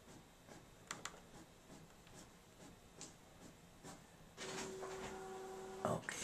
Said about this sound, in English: The ColloCards guide is almost finished printing.